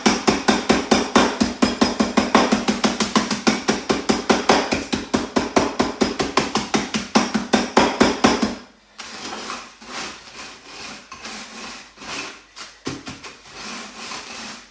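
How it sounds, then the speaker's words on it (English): Biscuits in a bag being whacked into crumbs for a chocolate and ginger tart: a fast, steady run of sharp close thuds that then turns into slower, uneven knocks and crunching. "So just keep it whacking them to a nice crumb."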